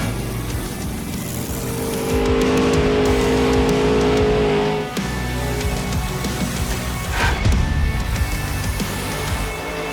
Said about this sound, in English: we are here to break a world record of the most revolutions done in a Monster Jam truck in a donut.